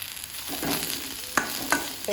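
Green chili and chili powder fry in a pan for Kerala pappada ada, giving a soft, steady sizzle broken by a few sharp scrapes of stirring.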